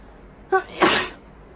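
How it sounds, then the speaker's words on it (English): A single loud, close sneeze: a brief voiced intake followed by a sharp, breathy burst, then quiet. "that's gonna stay in there because I'm not editing my sneeze out"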